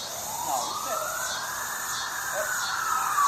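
A wailing siren sweeps up and down steadily, fairly close and loud over constant traffic rumble.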